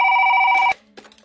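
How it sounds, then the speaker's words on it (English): A telephone rings loud and close in a classroom with a steady electronic bell tone, then stops abruptly and leaves faint room noise and small knocks. "How is it ringing? It's not even plugged in."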